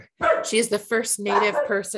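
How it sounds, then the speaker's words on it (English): A dog barking repeatedly at the postman arriving, close and loud, yelping barks in quick bursts under someone talking. "excuse my dog, post office is here now,"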